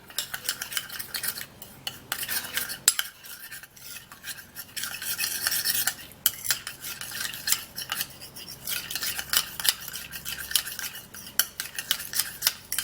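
A utensil stirs homemade rice skin cream in a bowl, close and repetitive clinking and scraping strokes of metal against the dish, with short pauses between bursts.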